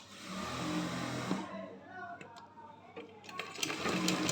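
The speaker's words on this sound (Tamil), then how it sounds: "இன்னொரு ஆஃப் இன்ச் மடிச்சுட்டு ரெண்டு தையல் போடுறோம்" A sewing machine stitches a hem folded twice by half an inch on panties. Its motor whirs in short bursts that start and stop close by, and a voice can be heard faintly under it.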